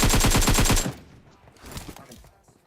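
Rapid AKM automatic rifle fire in PUBG Mobile, a loud burst of about eight shots in under a second, followed by quieter game sounds.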